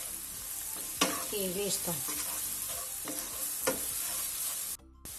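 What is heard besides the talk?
stirring paprika in a frying pan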